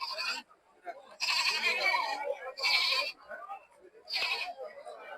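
Goats bleat at a cattle market ahead of Qurbani, four loud, close calls separated by short pauses with quieter market noise between them.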